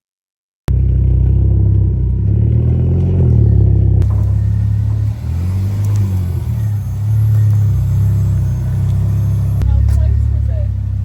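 A Mk2 Ford Focus ST starts up just outside and idles with a deep, loud rumble, the engine note rising and falling slightly as it runs, with a faint voice under it.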